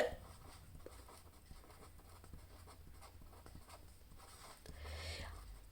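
A pen scratches on paper while chemistry equilibrium calculations are written out by hand, giving quiet, continuous close-up strokes with small taps and no speech.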